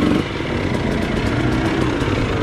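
A motorcycle engine drones and revs on a muddy track in the rain, loud and close, with a constant rough roar and no speech.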